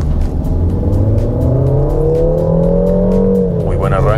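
A Peugeot 3008 SUV in Sport mode pulls away at full throttle, its engine note climbing steadily in pitch, loud and close from inside the cabin, while someone talks over it.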